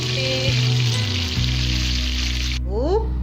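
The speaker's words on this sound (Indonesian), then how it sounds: "Ini cabenya kita goreng dulu." Chillies fry in hot oil for beef balado, giving a steady bright sizzle that stays dense and loud throughout, with low tonal hums underneath and a brief quieter stretch at the end.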